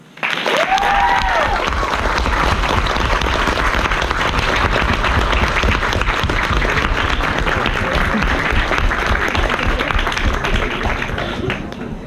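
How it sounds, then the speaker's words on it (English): Loud, dense applause from a student society debate audience at LSE, continuous and full for about twelve seconds before beginning to thin at the very end. "join me in once again giving a huge round of applause to both sides"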